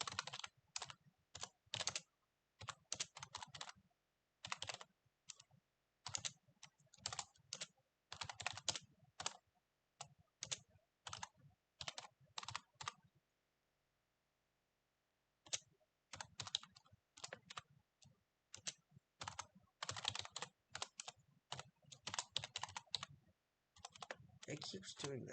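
Bursts of computer keyboard typing while entering Linux kernel build commands, quick clattering keystrokes in uneven runs with a short pause midway, fairly quiet and close.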